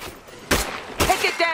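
Gunfire in the video game State of Decay 2, three or four sharp shots spaced about half a second apart, loud and close.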